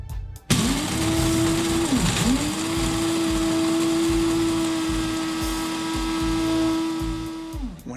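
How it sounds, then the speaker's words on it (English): A coffee grinder whirs steadily through a batch of beans, loud and close, with a brief dip in pitch near the start before settling into an even motor drone that winds down at the end. "When I grind the beans"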